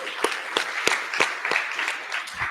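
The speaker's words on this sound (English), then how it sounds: "Big applause to you guys." Audience applause at a tech demo day, a steady wash of clapping from a crowd with sharper individual claps standing out throughout, moderately loud and sustained.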